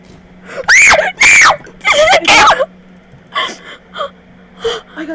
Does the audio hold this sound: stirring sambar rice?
no